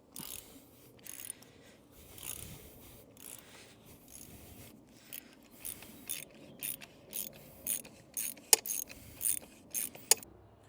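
A wrench ratchets on the oil filter housing of a Mercedes with 302k miles, first in sparse bursts, then in quick repeated clicking strokes growing louder and denser toward the end, close up with no talk.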